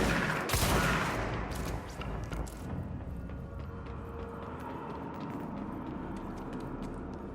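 Bursts of gunfire from the action video game Control, a loud broadband volley up front that settles into a steady rumble of continued shooting and game ambience, with no talk.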